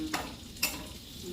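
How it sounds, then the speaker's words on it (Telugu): Cashews frying with curry leaves in a pan, a soft steady sizzle with two brief stirring scrapes, close and fairly quiet, no voices. "చెయ్యి దించకుండా వేపేసుకుంటే నీకు మాడిపోదు జీడిపప్పు"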